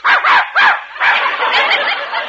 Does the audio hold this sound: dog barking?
yes